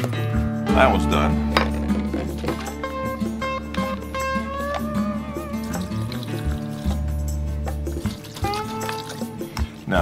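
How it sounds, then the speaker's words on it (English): Hot water poured into a jar holding brass cartridge cases for cleaning, a steady gurgling fill with ringing tones and drips, close up, while someone talks over it. "we're not gonna fill the whole jar, we're just gonna fill it till we're just slightly covering the brass."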